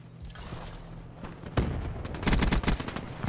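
Rapid bursts of gunfire in a shooter video game, a sharp shot near the middle followed by a dense, loud flurry of automatic fire toward the end.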